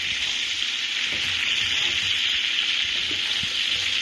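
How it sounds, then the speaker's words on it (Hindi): Chicken sizzling and frying in a pan for lemon butter chicken, a steady close hiss of hot oil that holds evenly throughout with faint stirring knocks underneath. "आतां ह्या वाटेन चिकन भाजोल तें."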